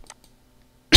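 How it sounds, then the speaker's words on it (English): A single short, sharp cough bursts out loud and close at the very end, after near silence. "Still got a cough going."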